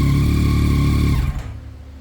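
A 2022 Yamaha Tracer 9 GT motorcycle engine idles loudly and steadily up close, then cuts off and winds down into quiet within about two seconds.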